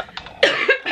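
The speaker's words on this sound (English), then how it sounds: "This is why I'm coughing." A single sharp cough followed by a second, then a shorter third burst, close up with no talking around it.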